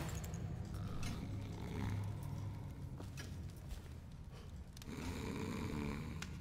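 Loud, steady snoring from a stout sleeping woman in the video game Dishonored, a continuous rasping drone that runs the whole stretch with a brief dip near the end.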